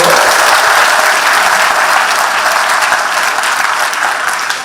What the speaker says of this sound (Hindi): तो जरा ताली वाली बजाओ, आगे बढ़ो